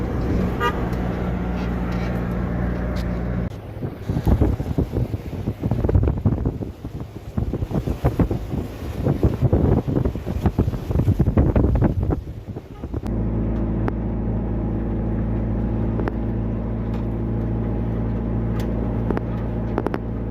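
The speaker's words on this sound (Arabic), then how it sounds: "شوف عاصفة الرملية بمدينة الدار البيضاء" Sandstorm wind buffets the microphone in Casablanca, Morocco, a loud gusting roar over steady traffic rumble near the city's eastern entrance, easing toward the end.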